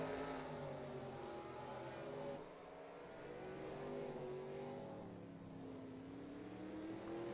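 Racing trucks in a video game truck series race drone with layered engine tones, several motors overlapping and shifting pitch, steady and moderately loud with no talk.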